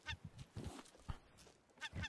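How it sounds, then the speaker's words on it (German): Honking bird calls in the survival game Raft, a string of short goose-like squawks repeated at an uneven pace, fairly faint and alone. "Das ist nur ein Vogel."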